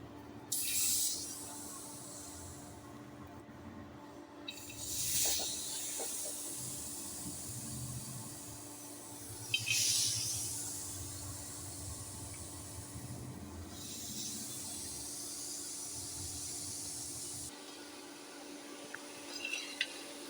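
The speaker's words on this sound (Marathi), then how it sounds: "ते मी ते तावा तापायला ठेवलेला होता, त्याच्यावर भाजून घेऊया आपण ते पूर्ण दाणे" Pigeon pea grains hiss and crackle on a hot griddle, with loud hissing bursts that rise and fade several times over a low steady hum.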